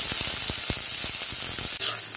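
Vegetables frying in a pan, a loud, dense, continuous sizzle with quick crackling pops throughout and a brief stir near the end; no talking.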